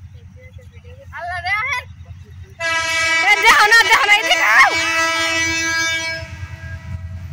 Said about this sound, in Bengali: এই তো ট্রেন যাইতেছে।